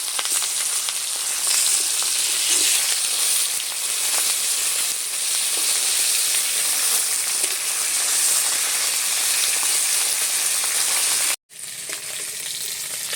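Japanese puti fish, roe-filled pond fish, frying in hot oil in a pan, giving a loud, continuous sizzle that holds steady before cutting off briefly near the end and resuming.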